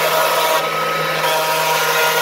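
A RYE Corp Fab King fabrication machine cuts a sink opening in a granite countertop, giving off a loud, steady grinding whine and hum that holds without a break and has no talk over it.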